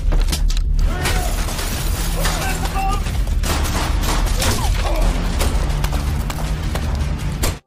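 Bursts of gunfire and impacts crackle through an action film shootout, loud and dense, layered with music and other battle effects across the scene.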